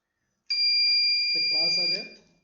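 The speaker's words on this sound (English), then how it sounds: "I'm just gonna remove the buzzer because it's a bit noisy" A PLC-triggered buzzer emits one continuous piercing electronic tone for about a second and a half before cutting off, loud and close, with a voice speaking over its latter part.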